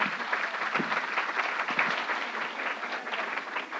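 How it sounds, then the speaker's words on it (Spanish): An audience at a panel on women's empowerment applauds warmly, a dense, even wash of many hands clapping at once that stays steady throughout. "si nos regalan un aplauso todas y todos"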